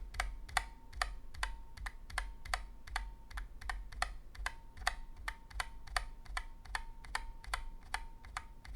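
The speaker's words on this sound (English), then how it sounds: "whenever the key rebounds to the starting position, you hear this metallic ping sound" Steady typing on a mechanical keyboard, crisp evenly spaced clicks each followed by a faint ringing metallic ping.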